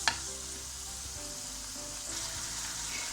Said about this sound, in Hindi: पहले मैं इसे अच्छे से फ्राई कर लूँ